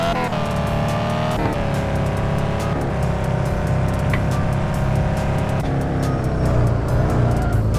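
A steady Toyota Supra engine in the video game Car For Sale Simulator 2023 drones and revs continuously, loud and close, with shifting gear-like changes in pitch and no talking.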